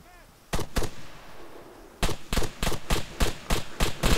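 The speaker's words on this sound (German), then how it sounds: "Er schießt schon auf mich." Gunfire in the video game ArmA 3: two close single shots, a short pause, then a steady run of about eight evenly spaced sharp reports, loud over a quiet background.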